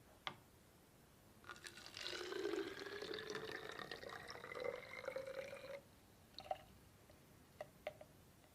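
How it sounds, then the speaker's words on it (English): Water pours from a laboratory beaker into a bottle, a soft steady trickling gurgle lasting a few seconds, framed by faint clinks of glass being handled. "Now I'm going to transfer the water from this beaker into this bottle here."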